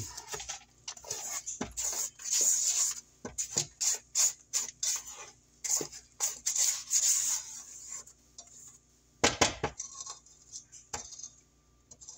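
Spatula scraping around a bowl of pound cake batter, a series of short rubbing, rasping strokes close by, with a couple of louder knocks near the end and no talking.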